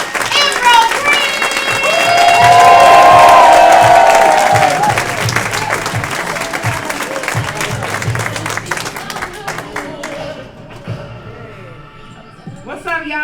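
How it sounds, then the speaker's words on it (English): Comedy club crowd at the Lincoln Lodge clapping and cheering for a comic taking the stage, a loud swell of applause with whoops that peaks and gradually thins out, with talk and a voice over it near the end. "So if you all can start clapping right now."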